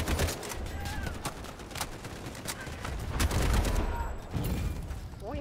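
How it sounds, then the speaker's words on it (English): A fixed machine gun fires rapid bursts of gunfire in the Delta Force: Hawk Ops video game, with other shots and battle noise around it, under a player talking. "There's a fixed machine gun?"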